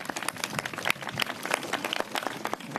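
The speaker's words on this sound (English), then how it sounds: "Let's give them both a round of applause and thank them" Audience applause for two city commissioners at a New York parks initiative event, a dense patter of many hands clapping at moderate distance, steady throughout.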